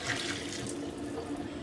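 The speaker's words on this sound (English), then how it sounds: "pour out the water." Hot water poured out of a jar into a kitchen sink, a continuous splashing, gurgling stream heard close and at moderate volume with no talk over it.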